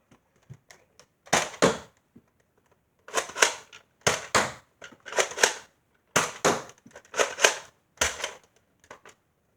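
A Nerf Vagabond toy blaster fires a series of sharp plastic snaps and clacks in uneven bursts, some quick double clicks, close by and with no voices over them. Some pulls misfire.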